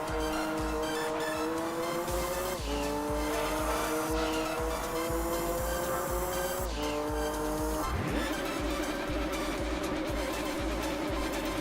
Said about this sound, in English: If you listen to those car engines